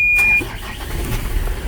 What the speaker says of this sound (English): We're gonna start the truck back again.